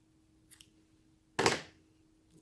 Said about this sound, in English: I'm going to pull up a little bit because now I'm going to cut